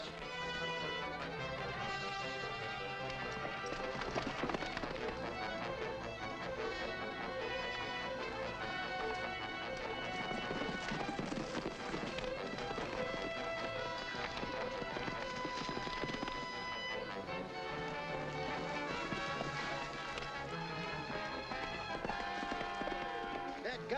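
Hooves pound steadily at a gallop beneath a loud, busy musical score that fills the whole clip.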